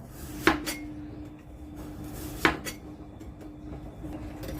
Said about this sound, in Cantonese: 紅蘿蔔去皮，用刀將紅蘿蔔切片。